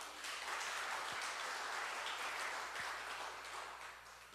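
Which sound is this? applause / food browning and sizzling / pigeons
applause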